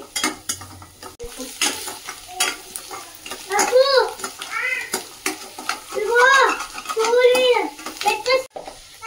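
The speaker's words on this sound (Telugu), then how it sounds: "వెజిటేబుల్స్ అయితే బాగా మంచిగా కుక్ అయ్యేంత వరకు ఫ్రై చేసుకోండి" Vegetables with chilli and onion fry in a pan for egg fried rice, with scraping stirs and a sizzle beneath several high, rising vocal cries nearby.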